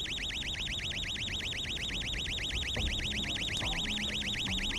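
A warbling electronic alarm in the video game Project Winter rises and falls steadily and continuously, loud and unbroken, with faint background noises beneath it.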